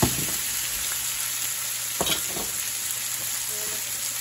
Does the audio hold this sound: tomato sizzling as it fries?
yes